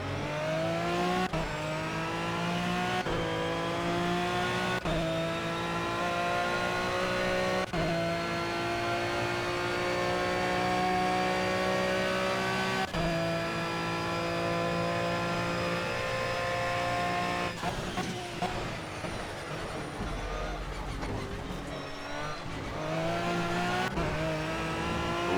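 An Aston Martin Vantage V12 GT3 races around Monza in the Project CARS video game, its V12 engine howling loud and close, climbing through gears in repeated rising sweeps with shift cuts and a brief tire squeal under braking.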